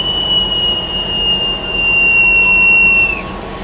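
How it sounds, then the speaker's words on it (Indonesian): The Siliwangi passenger train pulls out of Sukabumi station with a loud, sustained high metallic wheel squeal over a low rolling rumble. The rumble swells toward the end as the squeal cuts off. "kereta api Siliwangi udah berangkat dari stasiun Sukabumi"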